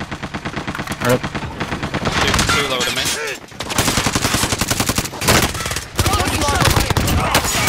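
Rapid automatic gunfire in the video game Call of Duty: Modern Warfare, loud bursts rattling almost continuously with brief gaps, while a player's voice speaks briefly over the shooting.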